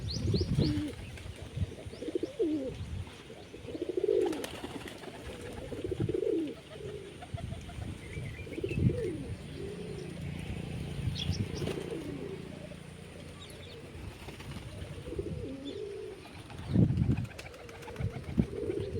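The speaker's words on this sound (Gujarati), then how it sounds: "બધા જ કબૂતર નીચે આવી ગયા ચણવા" Pigeons coo in low, rolling calls throughout while feeding on scattered grain, with bursts of wing flapping and faint chirps nearby.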